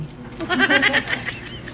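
A goat bleats once, a loud, close, wavering cry lasting over a second with a quavering tremble, heard on its own without talk.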